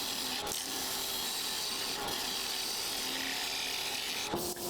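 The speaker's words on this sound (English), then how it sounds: "A little quick sanding" A wooden box spins on a lathe while being sanded, giving a steady continuous abrasive rubbing hiss with faint brief scrapes, close and fairly quiet, with no talk.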